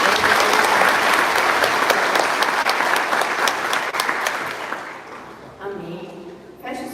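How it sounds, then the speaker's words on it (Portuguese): A church congregation applauds in a long burst of dense, steady clapping that fades after about five seconds, then a voice speaks over the last scattered claps. "Então vamos receber a pastora aplaudindo a Jesus mais uma vez."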